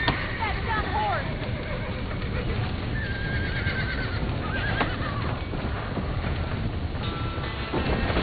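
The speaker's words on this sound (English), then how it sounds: "That dumb horse!" Horse in the Red Dead Redemption video game whinnies several times with clip-clopping hooves, over a steady wind-like game ambience and a voice speaking.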